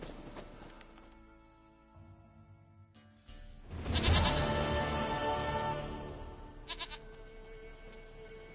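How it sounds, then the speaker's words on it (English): A goat bleats in The Witcher, a few drawn-out, wavering calls over a game soundtrack that swells midway, fairly close and clear with no talk. "Goat of mine, dearest,"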